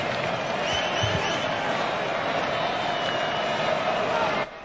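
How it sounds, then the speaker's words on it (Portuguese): Ecuadorian football supporters roar steadily through a World Cup stadium as Ecuador lead Qatar, a dense, continuous wall of crowd noise that cuts off abruptly near the end. "Torcida equatoriana empurra o time."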